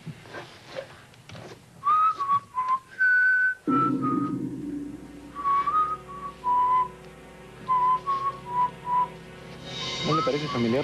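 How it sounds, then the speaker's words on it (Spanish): A man whistling a familiar tune, a clear melodic line of short and sustained notes close by, broken by pauses, with background music and brief talk around it. "¿No le parece familiar la tonada que está silbando este hombre?"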